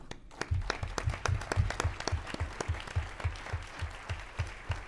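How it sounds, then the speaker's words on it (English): Audience applause at a closing ceremony, a steady patter of many hands clapping at moderate volume, fairly close and continuous throughout with no talk over it. "so please one applause for them."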